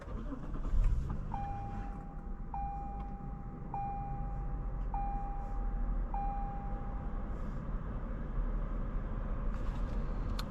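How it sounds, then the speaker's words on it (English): A 2018 Lexus GS 350 F Sport with a 3.5-liter V6 hums steadily from inside the cabin while driving, a low, even engine and road noise, with a few faint repeated chime tones early on. "Today, we're going for a drive in this 2018 Lexus GS350 F Sport."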